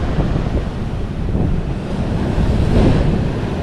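Sea waves at Ganpatipule, Ratnagiri, in monsoon, washing in with a continuous rushing roar, rising and falling gently, mixed with wind buffeting the microphone.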